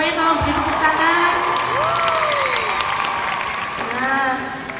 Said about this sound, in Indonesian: Semuanya tolong beri tepuk tangan.